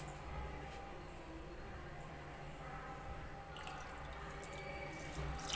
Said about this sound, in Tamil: இந்த கப்புக்கு 1/6 கப்பு தண்ணி ஊற்றிக்கலாம்.